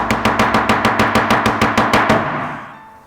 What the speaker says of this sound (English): you're chopping up cabbages and you're doing this